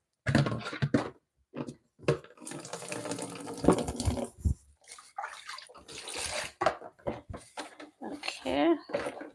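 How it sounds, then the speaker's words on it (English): A pepper being washed under a running kitchen tap, with intermittent water splashing and flowing while a person talks over it nearby. "wash my pepper"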